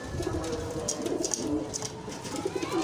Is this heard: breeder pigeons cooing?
yes